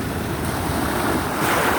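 Waves wash out over a rocky shore, a dense, continuous roar of surf and grinding water, with wind buffeting close by.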